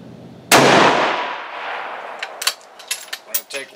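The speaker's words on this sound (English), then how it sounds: "This will be our first shot." A single loud, sharp rifle shot fired while zeroing an ATN X Sight II scope cracks out and decays over about a second and a half, followed by faint scattered clicks and handling noises.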